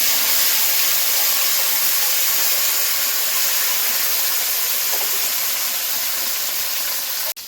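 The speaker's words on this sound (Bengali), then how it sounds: "তেল গরম হয়ে গেছে, ভেন্ডিগুলো ভেজে নেব।" Slit baby okra fry in hot oil, giving a loud, continuous hissing sizzle that holds steady up close and cuts off abruptly at the end. There is no speech.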